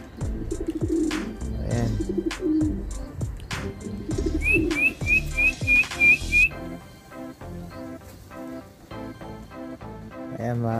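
Pigeons fly over and settle on a nearby rooftop. There are bursts of wing flapping and clatter, plus a short run of thin whistles, while someone talks quietly throughout.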